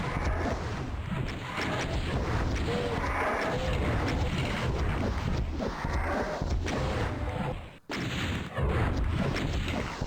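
Rockets fire at monsters in the 2024 re-release of the video game DOOM, their launches and blasts merging into a dense, continuous roar of loud explosions and gunfire-like bursts with brief dips.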